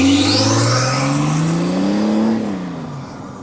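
A diesel BMW X5 E70 engine revs up in a smooth climb, then falls away as the throttle eases off. The revving is loud and close, followed by a quieter idle, with no voices.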